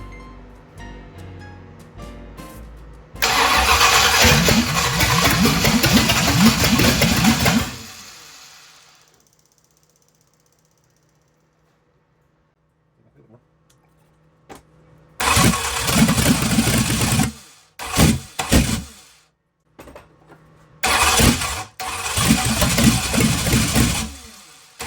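1965 Ford Thunderbird with a Ford FE 390 V8 cranking and firing, several loud bursts of rough running and revving separated by silent pauses and cranking attempts, close up.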